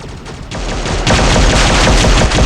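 Rapid bursts of gunfire in the multiplayer shooter game Infinity Ops crackle loudly and densely, building in intensity partway through like sustained automatic weapons fire, with no talking.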